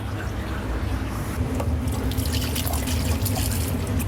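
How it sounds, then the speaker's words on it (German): Juice dripping from falafel or chicken street food into a small bowl at a vintage-bus food stall in Berlin, a faint steady trickle and patter over a low background hum. "Man hört, wie das tropft."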